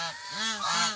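Domestic geese kept on a rural farm honk loudly and up close in a couple of harsh, nasal calls that follow one another across the second, with no talking.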